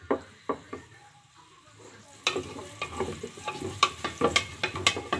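Onion frying in a pan with a spatula scraping through it, quiet at first, then a louder steady sizzle with rapid rhythmic stirring knocks against the pan, close up and with no voices.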